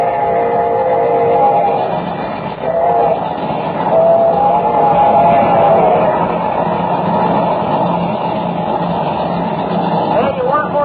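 A steam locomotive hauls a train along at a steady, continuous rumble and chuff, loud and close throughout with no pause, as if heard from on board.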